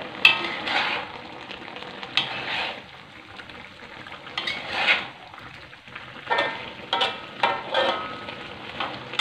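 Spices sizzle in hot oil for a young jackfruit stir-fry, a close crackling fry punctuated by repeated bursts of scraping and stirring in the pan, with no talk.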